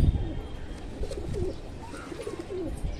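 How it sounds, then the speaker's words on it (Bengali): Pigeons in a loft coo softly in low, repeated rolling calls, close by. The birds include black-eyed pigeons and red Madras pigeons, and faint rustling and background murmur come in between the calls. "এটা চোখ কালো পায়রা"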